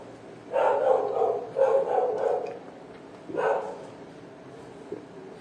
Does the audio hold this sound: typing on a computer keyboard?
no